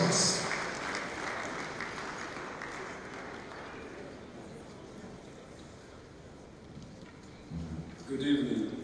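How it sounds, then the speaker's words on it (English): Audience at a Nigerian Guild of Editors event giving a round of applause, a broad clapping wash that fades over several seconds before voices and a few louder sounds return near the end. "A big round of applause for him as he welcomes us."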